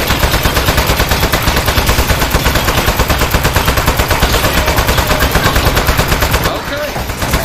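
Rapid, steady automatic gunfire in the video game Aperture Desk Job pounds on loud and continuous for several seconds, then drops off near the end.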